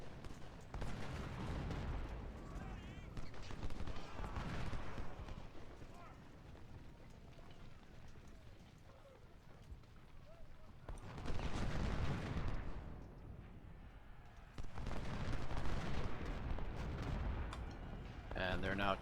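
Artillery fires during a Civil War battle at First Bull Run in a video game: rumbling booms and bursts come in separate waves over the din of the battlefield.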